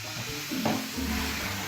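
Rum or brandy poured into a hot pan holding beef fillet, giving a soft sizzle and hiss with a brief swell in the middle, faint and steady without voices.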